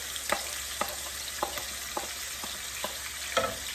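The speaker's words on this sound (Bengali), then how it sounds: "এখানে পেঁয়াজ কাঁচামরিচ করলা কেটে মিশিয়ে দিচ্ছি আর আলু দিয়ে ভাজি করবো" Bitter gourd, onion and green chili with potato being stir-fried in a pan, with a steady broad sizzle and about seven sharp utensil scrapes and taps at irregular intervals, no talking.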